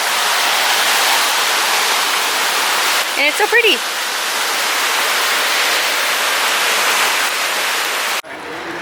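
Steady roar of rushing water at a waterfall in Victoria Park, loud and continuous throughout, with a brief voice speaking over it.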